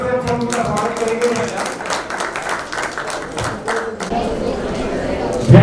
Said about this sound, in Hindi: जोरदार तालियों से हम उनका स्वागत करेंगे।